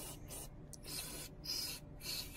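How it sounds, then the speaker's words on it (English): One Shot cleaner is sprayed from an aerosol can inside the slide of a Sig Sauer P226 Blackwater pistol, three close, hissing bursts, each about half a second long, separated by short pauses. "I like to go ahead and spray some of this one-shot on the inside of here too"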